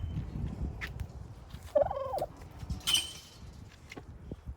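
A male turkey on a homestead lets out a loud gobble, with a second shrill call shortly after, over quiet yard background and no talk.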